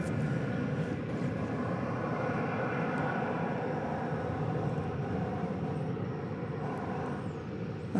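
A steady, broad jet rumble from a United airliner bound for Chicago O'Hare at DFW Airport holds even and moderately distant for the whole stretch, with no voices over it.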